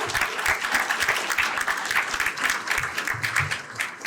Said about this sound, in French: je vous demande aussi de l'applaudir pour lui rendre hommage